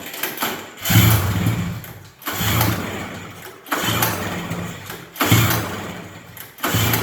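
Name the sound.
flooded engine cranking and trying to start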